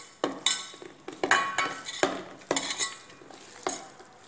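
Pepper chicken ingredients being mixed, with a spoon clinking and scraping against a metal bowl in a steady rhythm of about eight close, crisp strokes over a quiet kitchen background, with no talk.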